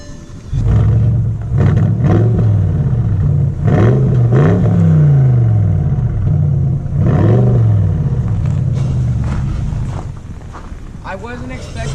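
A Bentley Continental GTC's 4.0-liter twin-turbo V8 fires up and revs several times, a loud deep roar rising and falling in bursts, with some wind buffeting.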